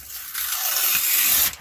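A sheet of paper is ripped during a craft project, one quick, close tearing sound lasting about a second.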